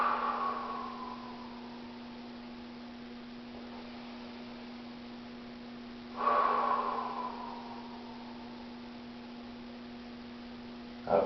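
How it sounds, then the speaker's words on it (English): Two deep breaths taken slowly, each a long airy inhale-exhale rush close to the mic, separated by a quiet pause over a steady electrical hum, with a short breath starting at the very end. "a couple deep breaths here"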